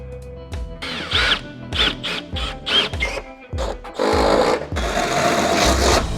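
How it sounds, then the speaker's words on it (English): A power drill bores holes for rivet nuts in a metal truck battery tray, in several short whining bursts that rise in pitch, then a longer sustained drilling run, close and loud with no talking. "Now that we have the holes drilled"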